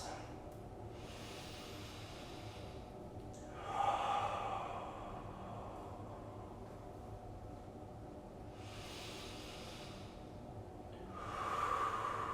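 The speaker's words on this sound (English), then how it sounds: "Let's do 3 more big breaths here." Deep breaths during a yoga session: a few long, slow, faint airy inhales and exhales spaced several seconds apart, with near-silence between them and no talking.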